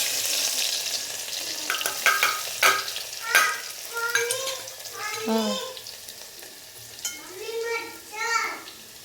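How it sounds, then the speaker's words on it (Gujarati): Garlic paste and mustard seeds sizzle in hot oil, the crackle coming in uneven bursts as a spoon stirs and clinks against the pan, close and moderately loud. "એમાં નાખીશું થોડી લસણની પેસ્ટ"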